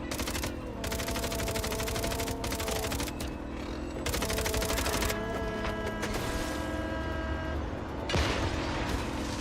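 Sustained automatic gunfire in MindsEye, machine guns firing at mercenaries in bursts that run almost unbroken for about nine seconds, dense and loud, with brief gaps between volleys and game music layered underneath.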